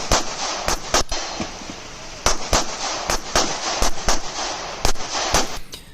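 Pistol shots from a Glock 43X ring out at steel targets during a USPSA competition stage, a dozen or so sharp, loud reports spaced irregularly as the shooter moves, with quieter outdoor background between them.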